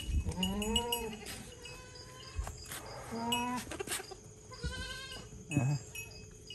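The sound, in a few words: goats bleating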